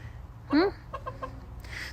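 A single hen gives a rising squawk, then a few soft clucks, faint against a low background rumble.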